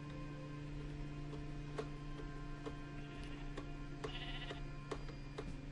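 Sheep bleat in Minecraft, several short bleats scattered over a quiet game background with a faint steady tone and ticking, no talk.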